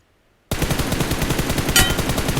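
Rapid automatic fire from an M4 rifle in PUBG Mobile, a steady burst of close, loud shots starting abruptly after brief silence and continuing evenly with one sharper crack near the end.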